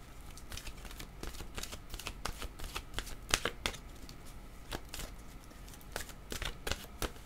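Oracle cards are shuffled by hand close up, a continuous run of quick papery riffles and soft slaps, fairly quiet with no voice over them.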